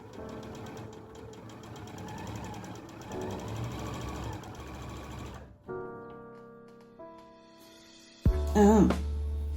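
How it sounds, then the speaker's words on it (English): A domestic sewing machine stitches a seam in steady, rapid mechanical whirring for about five seconds, then stops. Softer tones and clatter follow, with a louder burst and a brief voice near the end. "So I do a little pivot under the arm and then sew it straight down."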